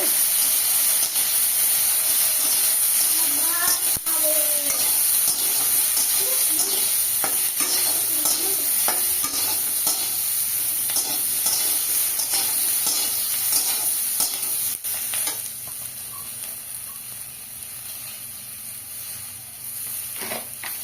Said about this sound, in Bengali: ছোট ছোট আলু কেটে রেখেছিলাম, আলুগুলো দিয়ে আলুগুলো ভেজে নেব একটু।